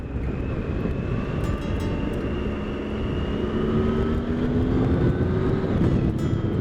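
A Triumph Tiger 1050 Sport motorcycle engine drones steadily while riding, a continuous near and fairly loud hum with a faint rising pitch under heavy wind rush, no voices.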